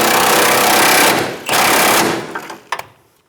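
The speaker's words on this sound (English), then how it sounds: "we're going to snug down our nut." An impact tool with 29mm sockets tightens a nut on the suspension of a 2005–2015 Toyota Tacoma during an air helper spring install, loud and close in two long hammering bursts, then a few short rattling hits before stopping.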